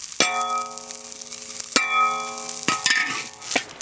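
Glutinous rice cake (ciba) cooks slowly in a pan with no oil under a faint sizzle, while a few sharp metallic clanks of utensil on pan ring out and decay.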